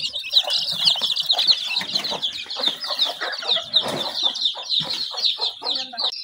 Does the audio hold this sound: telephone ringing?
no